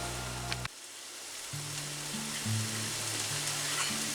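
Pasta dropped into a sizzling pan for carbonara, a steady close frying hiss with a sharp clatter at the start and low stirring bumps, no talk.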